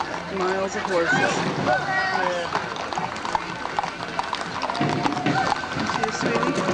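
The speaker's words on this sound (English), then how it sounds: "Oh, they had miles of horses." Horse hooves clip-clop through a long parade procession outdoors, a steady stream of hoofbeats mixed with crowd noise and people talking nearby throughout.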